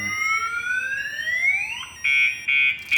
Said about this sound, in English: You can hear a little siren in this thing somewhere.